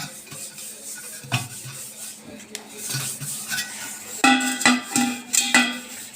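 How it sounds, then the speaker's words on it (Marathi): A copper pot is scrubbed clean by hand, with rough rubbing strokes and sharp metallic clanks and rings of the vessel that grow louder and more frequent toward the end. "सगळ्या बाजूने मस्त घासून घ्यावं।"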